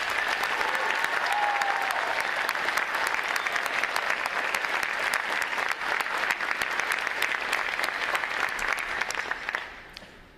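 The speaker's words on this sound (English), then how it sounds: "Please join me in giving them and the six other graduating divisions here today a round of applause" Sustained audience applause at a U.S. Navy recruit graduation ceremony, dense and steady clapping from a large crowd for about ten seconds before fading out at the end.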